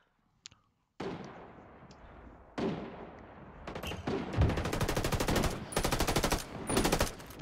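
Gunfire in the video game Ghost War: a short burst, then heavier automatic fire that builds into rapid, rattling bursts, loud and close.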